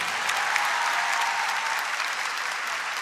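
An audience applauding at a Corpus Christi Mass, a steady, dense wash of many hands clapping at an even level throughout.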